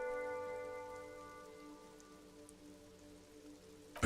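Rain falling in the city of the video game Disco Elysium, a soft steady hiss beneath sustained musical tones that fade gradually, ending in a brief sharp burst of sound.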